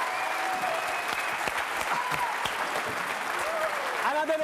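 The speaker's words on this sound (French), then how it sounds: "On applaudit Ariane." A studio audience on a French television show claps in sustained, even applause, with a host's voice audible over the clapping.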